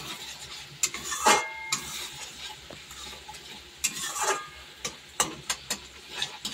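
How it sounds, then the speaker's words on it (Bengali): A utensil stirs sour yogurt into a curry in a pan, scraping and clinking in irregular strokes, with a soft sizzle underneath and nobody talking. "টক দইটা একটু মিশিয়ে নেব"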